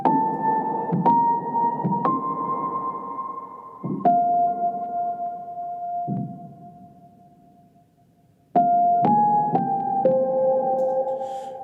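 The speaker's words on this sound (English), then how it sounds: "is this piano sound, piano melody, which I'll play you." Sampled F Grand piano from UVI Key Suite playing a slow melody of single ringing notes that sustain and fade, with a quiet pause before the final phrase resumes.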